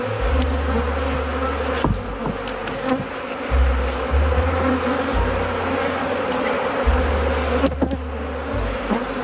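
Close, continuous buzzing of many honey bees at an open hive with young emerging bees, a dense droning hum with deeper wingbeat tones rising and falling, no talking.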